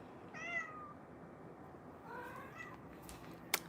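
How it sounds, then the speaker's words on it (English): A cat meows twice, quiet and slightly distant, with a short pause between the two calls and a faint click near the end. "Meow meow. Yes, Snowy's meowing"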